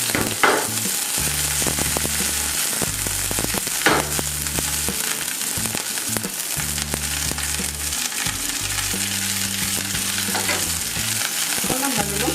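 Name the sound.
onion rings and dried chili frying in oil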